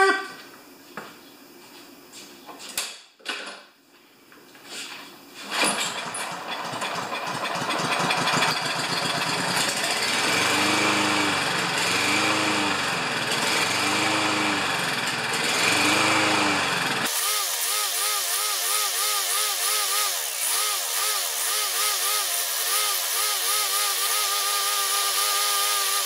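A Lawn-Boy lawn mower with a stuck choke starting after a few clattering attempts, then its small engine running steadily and loudly with a wavering pitch before dropping to a different, thinner running tone.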